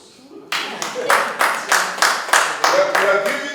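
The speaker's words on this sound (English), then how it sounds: "Now, I want you to give yourselves a round of applause." A group claps together in a slow, steady unison rhythm at a mentoring meeting, about ten sharp synchronized beats after a brief quiet start, close and fairly loud.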